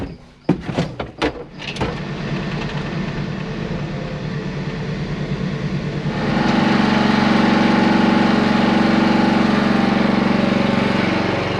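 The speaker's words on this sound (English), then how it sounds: "Let's fire up the JCB and switch to the bale forks." A JCB telehandler engine cranks with a few sharp clicks, catches and settles into a steady idle, then rises to a louder, fuller rumble partway through, close by and alone.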